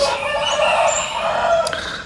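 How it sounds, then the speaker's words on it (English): Roosters crow at a distance at ten to six in the morning over a steady outdoor background, with long drawn-out calls that overlap one another. "The cockerels are going off."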